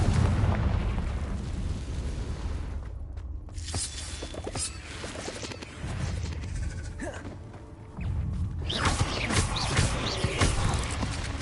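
Confringo spell explosions crack out in Hogwarts Legacy, a series of loud booming blasts with rumbling low end, one fresh burst hitting partway through, over continuous game noise.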